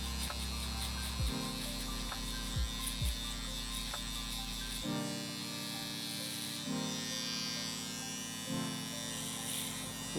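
An electric shaver with a single blade buzzes close by while trimming hair for a faded mohawk, a steady hum that shifts in pitch and cuts out briefly as it moves over the head.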